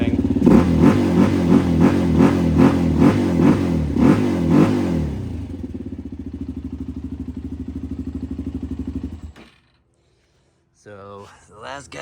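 A Suzuki LTZ 400 ATV engine revs hard in rapid rhythmic bursts for several seconds, settles into a steady, loud idle, then cuts off abruptly, leaving a short quiet gap before a brief mechanical rattle.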